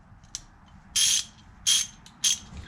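Three short bursts of rapid clicking from a 1/2 inch 90 tooth geardrive ratchet wrench being turned, close and crisp against a quiet background.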